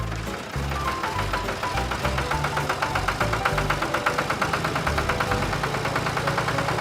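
A tractor engine runs steadily with a rapid knocking, chugging pulse that grows slightly stronger over time, loud and close, with no talk over it.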